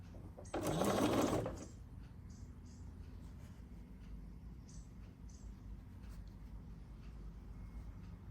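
A sewing machine stitches a quilt block in a short loud burst of about a second near the start, then stops, leaving quiet room noise for the rest.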